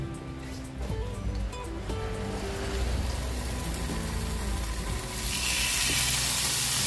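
Pork belly searing in batches in hot oil, producing a continuous loud hiss and sizzle that swells toward the end, with no talk.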